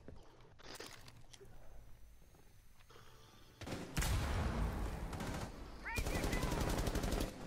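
Gunshots in Rainbow Six Siege, scattered rapid shots early, then louder close bursts of automatic fire in two clusters, with game sounds and faint talk beneath.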